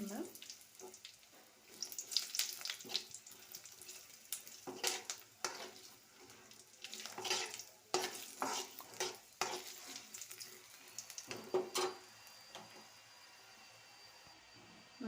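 Buttermilk chilies frying in hot oil in a pan while being stirred, giving a soft, steady sizzle broken by repeated scraping and clinking strokes of the spoon, fairly quiet and close.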